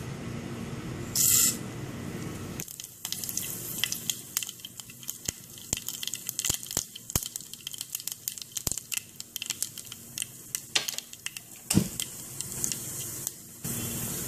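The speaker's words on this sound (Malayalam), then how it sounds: "വെളിച്ചെണ്ണ ചൂടായി കഴിഞ്ഞു ഇതിലേക്ക് ഇനി ഉലുവയും കടുകും ഇടാം" Fenugreek and mustard seeds splutter in hot coconut oil, giving a dense run of sharp crackles and pops close by, with a brief louder burst early on and no talking.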